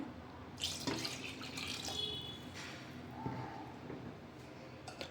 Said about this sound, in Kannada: ಈಗ ಇನ್ನೂ ಒಂದು ಗ್ಲಾಸ್ ನೀರು ಹಾಕ್ಕೊತೀನಿ